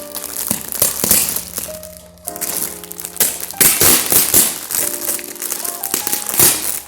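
Packing tape tears and crinkles off a package during a Lolita dress unboxing, in repeated sharp ripping bursts with crackling plastic rustle between them, close and fairly loud.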